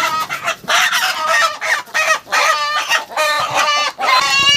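Seven-month-old light red village roosters cluck and crow loudly and close, a dense run of repeated calls with short breaks between them and no talking.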